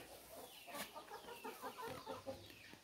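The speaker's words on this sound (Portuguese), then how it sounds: "Cala a boca, galo." A rooster clucks in a steady run of short, quiet calls, heard at some distance over outdoor background noise.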